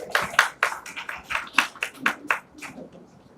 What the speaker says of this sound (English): everybody must give us a big round of applause for her